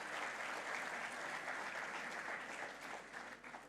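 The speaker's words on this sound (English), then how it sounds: "Give yourselves a huge applause" A large audience seated in a hall at a batch inauguration event breaks into sustained applause, dense clapping that holds steady and tapers slightly near the end.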